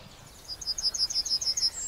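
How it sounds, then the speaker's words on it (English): Dawn chorus birdsong, a rapid series of high, thin repeated chirps in a quick even rhythm, moderately near and standing alone over faint background hiss. "All over the world, birds throw their heads back in song."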